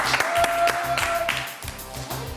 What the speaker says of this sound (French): Merci les filles, on les applaudit encore.